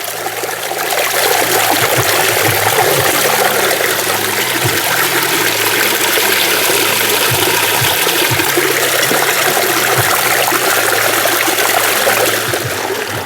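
Running water pours steadily and loudly while food is washed off during outdoor bush cooking, a constant splashing rush with no talking.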